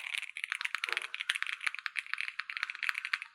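Typing on an ROG Azoth Extreme mechanical keyboard with a softer profile fitted, giving fast, steady, close-up clacks throughout, with one deeper thock partway through, likely the spacebar.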